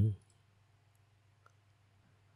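A single computer mouse click opening the Windows 10 Start menu, crisp and close, followed by a faint low electrical hum and near silence.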